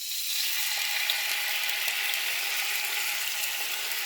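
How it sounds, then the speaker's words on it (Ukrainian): Steady, even sizzling of sauce poured into a hot frying pan over sautéed zucchini, loud and close, with faint scraping clicks now and then. "тепер беру цей соус, виливаю на сковорідку"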